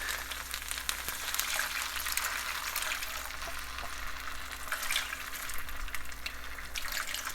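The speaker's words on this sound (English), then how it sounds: "I'm going to add the tamarind juice." About a cup of tamarind juice poured into a cooking pan for Malay-style paneer sambal, a continuous close splashing pour with no talking.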